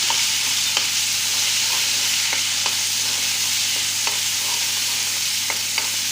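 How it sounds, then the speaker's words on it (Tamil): Ground ridge gourd chutney fries in oil in a pan, giving a steady close sizzle with occasional sharp spoon taps and scrapes as it is stirred. No one speaks. "அதை போட்டு நம்ம நல்லா எண்ணெய் பிரிஞ்சு வர வரைக்கும், பச்சை ஸ்மெல் போய் எண்ணெய் பிரிஞ்சு வர வரைக்கும் நம்ம வதக்கிக்கலாம்"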